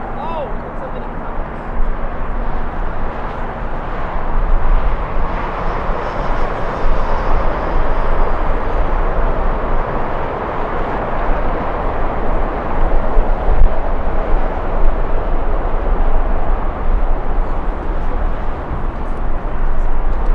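United Airlines 757 at LAX in strong winds, a loud continuous broadband roar of jet engines and gusting wind that swells and holds steady throughout, with talk faintly underneath.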